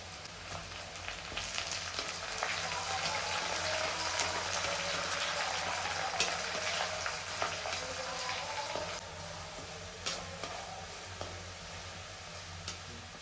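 Ginger and curry leaves frying and being stirred in oil in a pan for Kerala mango pickle, a steady close sizzle with occasional scraping and clinks throughout, no talking.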